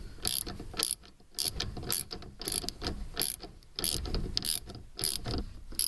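A ratchet tightens a rear strut bolt on a VW Jetta TDI of the 1993–99 A3 platform, giving rapid rhythmic clicking bursts in repeated strokes with brief pauses, close and crisp, with no talking.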